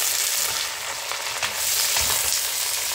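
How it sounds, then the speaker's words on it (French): White cabbage sizzles and crackles steadily in olive oil in a hot pan, a dense frying hiss with occasional stirring scrapes underneath. "je vais verser le chou blanc dans la casserole"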